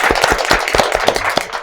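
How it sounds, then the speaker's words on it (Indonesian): An audience at a political talk show applauds, dense overlapping claps sustained loudly throughout with no voices. "Boleh tepuk tangan dulu semua ya."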